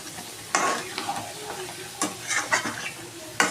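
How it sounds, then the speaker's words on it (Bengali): Mutton in a yogurt-based curry sautés on a medium flame, with a spatula scraping and stirring in irregular strokes over a low background sizzle, close and moderately loud. "ভালো করে মাটনটাকে কষিয়ে নেব।"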